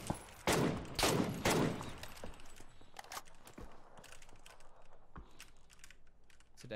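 Gunfire in a shooter video game, with a heavy burst of rapid shots early, then scattered sharp single cracks and clicky mechanical noises continuing at lower level, with no talk.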